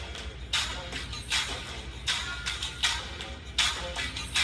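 Crisp synth hits resembling hi-hats in a rap beat tick in short bright bursts at an irregular rhythm, fairly quiet over a low background hum, with no voices.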